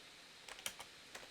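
A computer keyboard clicks softly as someone types code, giving a few quick, faint, irregular keystrokes over a quiet background hiss.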